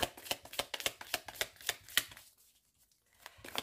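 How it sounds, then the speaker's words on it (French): Oracle cards shuffled for a six-card draw: a quick run of crisp riffling flicks, close and clear, then a brief pause before one more flick. "On va effectuer un petit tirage de 6 avec l'oracle des miroirs."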